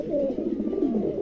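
Lakha breed pigeons in silver and Andalusian colours coo close by, giving a soft, throaty, wavering call that dips and rises once more in a short burst, with no voices.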